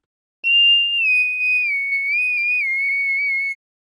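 A beginner-made Vocaloid Miku synthesized singing voice holds a single high, thin, whistle-like note with slight pitch wavering for about three seconds, isolated against silence.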